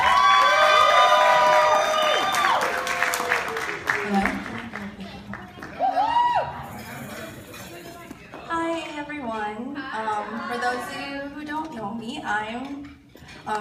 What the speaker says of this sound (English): Let's get a round of applause, please, for Miss Reijoyce Calabas and Miss Krystal